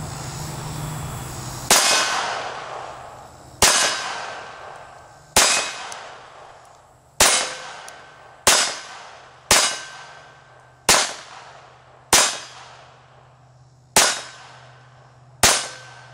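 A Ruger SR22 pistol fires La Hotter .22 ammunition in about ten sharp, loud shots spaced a second or two apart, each cracking close by and ringing out with a decaying tail.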